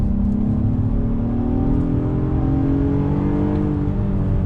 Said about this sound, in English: I'm actually enjoying driving an SUV through some tight, twisty bits.